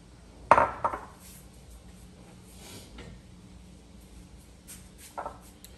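A spoon clinks sharply against dishes in a kitchen while sweet potato is measured for a traditional Barbados dish, one bright clatter followed by quieter knocks and a later faint tap, no talking.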